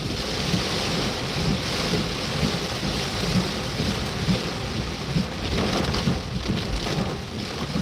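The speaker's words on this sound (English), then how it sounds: "The creek and pond are going to be overflowing" Floodwater from an overflowing creek rushes steadily in a loud, continuous roar with no break, and no voices are heard over it.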